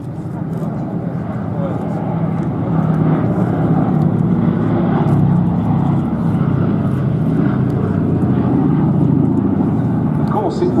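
A B-17 Flying Fortress bomber flies at Duxford, its piston engines giving a steady droning roar that holds throughout while someone narrates over it.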